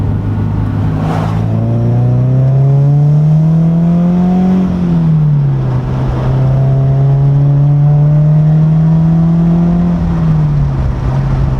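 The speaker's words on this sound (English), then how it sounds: "you hear the rumble way more" Loud, steady exhaust rumble from a Subaru BRZ, heard from inside the cabin, drones continuously with slow rises and falls in pitch as the engine revs gently up and back down.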